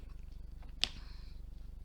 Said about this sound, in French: Un petit chat.